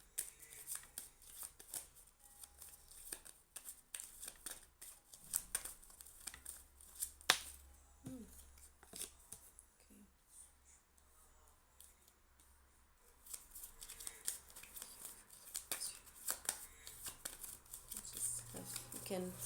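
Tarot cards being shuffled repeatedly in quick riffling bursts, close and fairly quiet, with a brief lull partway through.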